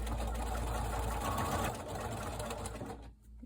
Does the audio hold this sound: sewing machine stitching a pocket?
yes